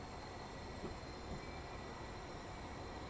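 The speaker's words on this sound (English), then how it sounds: "we're coming out the yard with a massive train" A massive train pulls out of the yard on the West Coast Main Line in Train Sim World 5, a steady low rumble of rolling wheels and engine with faint rail clicks, continuous and without voices.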